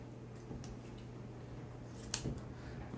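A few short snips of scissors cutting a strip of peeled-off material, faint and close against a quiet hum, with one sharper cut near the end.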